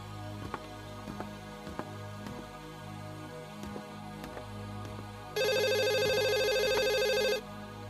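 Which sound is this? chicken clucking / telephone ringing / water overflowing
telephone ringing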